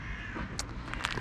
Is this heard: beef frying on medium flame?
no